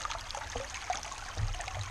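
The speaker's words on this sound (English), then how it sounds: "quite a bit of water moving." Creek water flows with a quiet, steady trickle and gentle splashing, close by and alone without talk.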